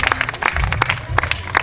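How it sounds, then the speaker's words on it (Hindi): Loud, dense applause from an audience at a community award ceremony, steady clapping with a faint murmur of voices beneath it, continuous throughout. "सभी से अनुरोध है कि जोरदार तालियों से उनका स्वागत करेंगे"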